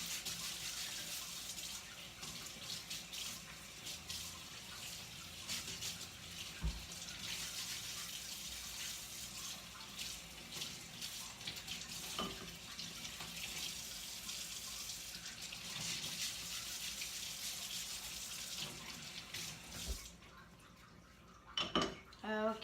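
Carrots are scrubbed under a running kitchen tap, a continuous close splash and rush of water with brief clatters, ending as the flow stops.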